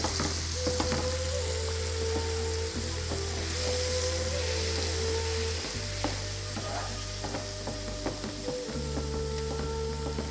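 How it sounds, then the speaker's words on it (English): Tomato puree with chili sauce, turmeric and chili powder cooking in a pan for spicy masala prawns, a steady, close sizzle running throughout over a low droning hum. "Just make sure the tomato puree cooks and just turns a little bit darkish."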